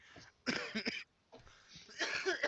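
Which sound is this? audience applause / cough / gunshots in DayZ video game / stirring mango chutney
cough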